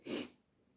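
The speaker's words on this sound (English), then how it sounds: "I had to sneeze there." A single sharp sneeze bursts out close by, then quiet breathing trails off.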